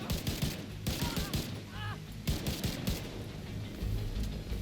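Bursts of SIG rifle fire in The Division 2, rapid cracking shots in several clusters, close and loud, with brief gaps between volleys and faint background game sounds.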